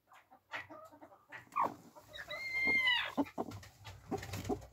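Domestic hens, including broody sitting hens, cluck and murmur nearby in a quiet coop, with scattered short clucks building into a longer, louder run of calls in the middle.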